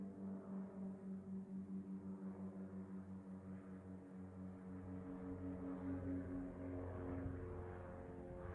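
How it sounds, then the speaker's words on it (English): A propeller airplane drones overhead outdoors in nature, a faint, steady engine hum with a slowly pulsing rhythm that swells gradually as it passes. "There's a spy plane."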